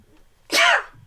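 A single sharp sneeze bursts out loud and close, lasting under half a second, between quiet moments.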